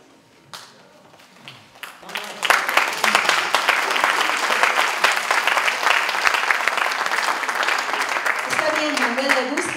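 Audience at a conference breaks into applause: a few scattered claps at first, then a swell into loud, sustained clapping that holds steady to the end.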